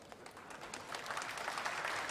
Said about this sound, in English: Oh, they're clapping something.